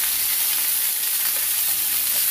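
Chicken pieces sear in a hot pan, giving a steady, close, loud sizzle and crackle of frying with no voices.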